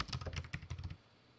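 Quick burst of computer keyboard typing while renaming a part in simulation software, roughly a dozen close, soft clicks in under a second before falling quiet.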